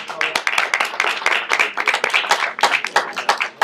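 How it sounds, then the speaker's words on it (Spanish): A live audience claps for Vanessa at the close of a talk on Germany, the Czech Republic and Austria, a lively burst of close, sharp hand claps at an uneven rhythm. "Un aplauso para Vanessa, por favor."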